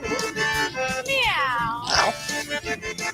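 In a funk music performance, a singer imitates a cat with a drawn-out, wavering meow over a rhythmic backing track, followed by a shorter yowl.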